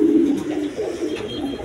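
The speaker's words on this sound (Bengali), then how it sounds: "দেখেন রেড কালার গররা কবুতর, একদম কোয়ালিটি সম্পন্ন কবুতর" Red Gorra pigeons, a female and a male, coo in low, rolling phrases up close, with a steady murmur over the whole stretch and no voices.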